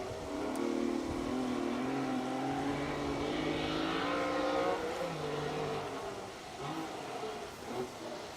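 A V6 rally car on a stage of the 2025 RAC Rally passes with a loud, continuous engine roar that rises in pitch as it nears, then fades as it pulls away.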